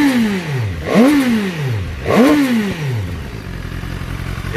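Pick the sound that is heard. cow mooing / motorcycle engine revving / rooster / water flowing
motorcycle engine revving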